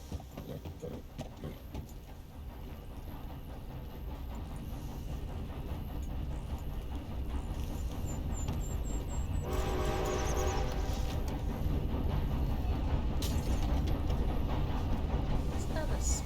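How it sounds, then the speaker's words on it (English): A steam train approaches in the video game Red Dead Online, its rumbling wheels growing steadily louder, with a whistle blowing midway and sustained clatter carrying through to the end. "Yeah, there's a train coming."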